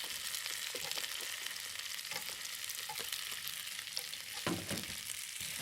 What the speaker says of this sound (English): Then I stir fry the mushroom.